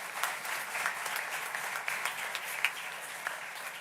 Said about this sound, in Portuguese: E para o Afonso nós damos também uma salva de palmas